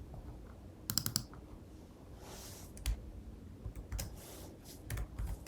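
Fingers type on a computer keyboard in quick, light clicking bursts with short pauses, quiet and close, no voice present.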